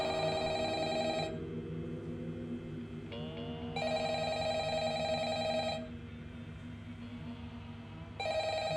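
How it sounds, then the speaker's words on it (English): A telephone rings in bursts of electronic bell tone with pauses between them, loud and close over a low background hum, in a Five Nights at Freddy's fan film. "The scene where Mike gets the phone call is really cool, especially when you first hear it ringing"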